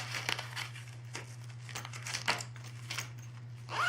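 Paper cash slipped into a paper envelope for a gas budget, a string of soft crinkles and rustles over a steady low hum, close and quiet.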